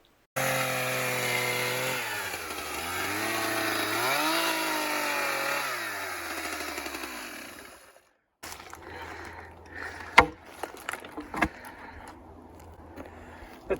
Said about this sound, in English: just drilling the holes ready for the posts that are going to support our